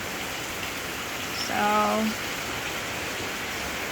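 Steady light rain falls outdoors as a tropical storm approaches, a soft even hiss throughout, briefly interrupted by a short spoken word.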